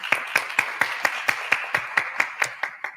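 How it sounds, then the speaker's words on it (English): Clapping at an HBCU debate event: about a dozen crisp, evenly spaced claps in a steady rhythm, close and moderately loud, sounding more like one or a few hands than a full crowd. "Let's give the debaters another round of applause."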